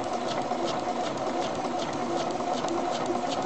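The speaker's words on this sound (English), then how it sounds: "the needle is stitching it right along the edge" A home sewing machine stitches an invisible zipper, giving a steady, close mechanical whir with a fast, even needle rhythm and no pauses.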